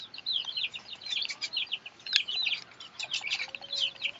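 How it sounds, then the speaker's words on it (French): Chickens, roosters and laying hens cluck and chirp together outdoors, a busy layer of short calls at moderate distance, steady across the whole stretch with no talking. "Il y a des coqs, il y a des poules, il y a des pondeuses,"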